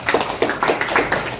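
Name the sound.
audience clapping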